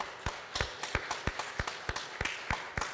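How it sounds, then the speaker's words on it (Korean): Congregation at a Cumberland Presbyterian church service clapping together in a regular, fairly even rhythm, crisp claps close by over a faint background murmur. "다시 한번 더 크게 한번 박수해 주시기 바랍니다"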